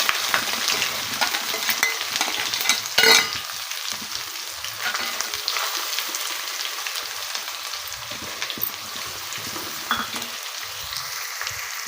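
Cashews, ginger-shallot paste and onions fry in a pan for carrot rice, a loud continuous sizzle with repeated stirring scrapes and one sharp clatter early on.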